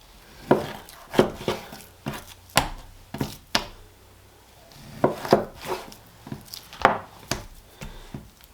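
A knife cuts a whole top sirloin into steaks on a board, with a dozen or so distinct close chopping knocks in an uneven rhythm, each a crisp thud with short gaps between, no talking.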